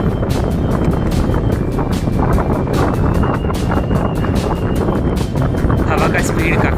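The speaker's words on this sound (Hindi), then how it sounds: "हवा का स्पीड काफ़ी ज़्यादा तेज़ है" Strong wind on a mountain trail between Phalut and Sandakphu on the India–Nepal border roars steadily and loudly into the microphone, a dense constant buffeting rumble with no let-up across the whole stretch.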